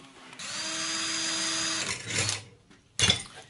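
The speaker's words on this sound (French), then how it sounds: "Alors, perçage des trous pour fixer les flammes." A drill bores holes through a sheet-metal body panel with a steady, whining motor hum for about two seconds, then a short burst and a final brief drilling spurt.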